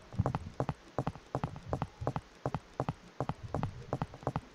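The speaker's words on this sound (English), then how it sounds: "they are playing the footstep sound" Footsteps of an AI player character running in a Unity PUBG-style mobile game, heard as rapid paired thudding steps in a steady rhythm, fairly close and alone without talk.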